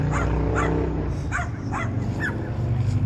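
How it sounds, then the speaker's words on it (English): Several dogs bark and yip in short bursts at a distance, repeated over a steady low rumble. "You hear some other dogs barking?"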